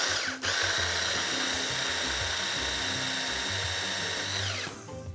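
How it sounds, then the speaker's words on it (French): A small food processor chops quartered shallots, a steady loud whirring motor for about four seconds that then winds down and stops, with no talking. "Je les mets aussi dans mon petit mixeur et je mixe."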